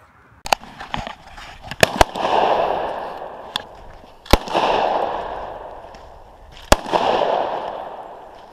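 Sharp gunshot cracks at an outdoor target-practice range in Michigan's Rogue River State Game Area, several irregularly spaced loud reports, each followed by a rolling echo across open ground, with no talking.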